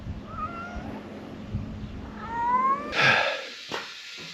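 A cat meows twice, a short cry then a longer, louder drawn-out one, close by over a low steady hum, followed by a sharp knock or clatter.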